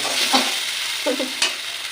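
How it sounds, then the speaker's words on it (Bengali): Cumin seeds fry in hot oil for sago pulao, giving a steady close sizzle with a few brief stirring scrapes and no talk. "তাই তো সাবুদানা পোলাও এই যে জিরে ভাজা"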